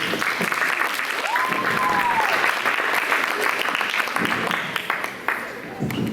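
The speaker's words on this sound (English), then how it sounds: "Let's give them a round of applause." A seated audience at a community storytelling event breaks into steady, fairly loud applause that carries on for several seconds, with a brief voice over the clapping before it tapers off.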